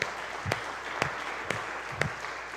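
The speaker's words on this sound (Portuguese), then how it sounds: "Pode aplaudir o Senhor." A church congregation applauds at the close of a service, heard as four faint, evenly spaced claps about half a second apart over quiet room tone.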